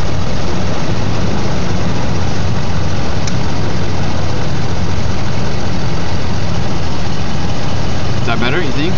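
A CNG-fueled V8 engine idles loud and close, a steady low rumble with slight roughness throughout, after its injector timing has been adjusted; a voice briefly speaks near the end.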